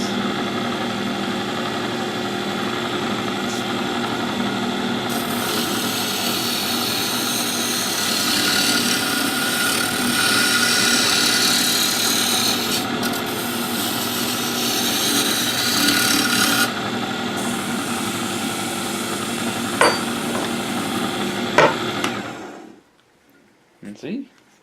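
Wood turning on a lathe as a top is shaped, a steady close rasping and hissing of the chisel cutting chips over the motor hum, growing brighter and rougher midway, then a few knocks before the machine winds down to silence.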